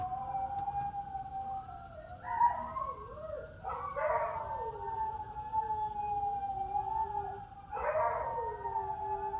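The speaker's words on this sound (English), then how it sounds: "I love how dogs have to sing with sirens." Dogs howl in long wavering cries along with a wailing emergency siren, the siren holding steady in the background while the howls swell in two clear bursts, moderately loud, with no talk.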